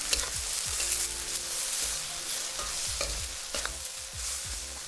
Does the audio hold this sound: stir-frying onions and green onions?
yes